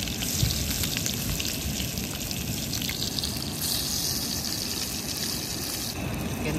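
Bangada (mackerel) fish frying in hot oil in a pan, a steady dense sizzle with crackling spatters throughout, close and continuous with no voices.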